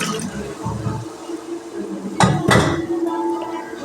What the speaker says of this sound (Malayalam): ഇനി നമുക്ക് ഇതിലോട്ട് ബീഫ് തട്ടാം. ബീഫ് ഈ വെള്ളത്തോട് തന്നെ തട്ടുവാണേ.